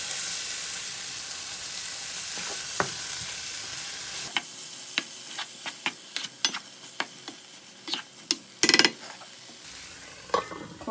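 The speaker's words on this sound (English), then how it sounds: "We will stir this up, trying to coat all the paneer with the gravy." Paneer curry is stirred in gravy in a pan, with a soft steady sizzle under a series of sharp spoon scrapes and taps against the pan, close by and without talk.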